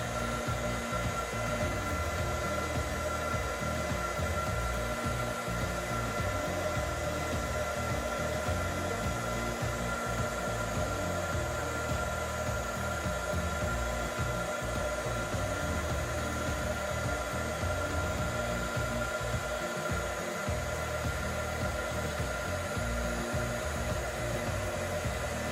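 A heat embossing tool blows hot air in a steady, unbroken fan-like hiss for a long stretch, close and fairly loud, with no voices.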